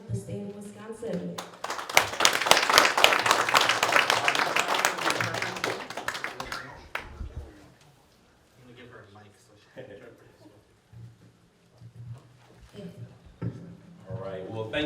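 A crowd claps and applauds for about five seconds at the grand opening of the Hmong American Center as Wisconsin's lieutenant governor is introduced, then the applause fades and a voice begins speaking.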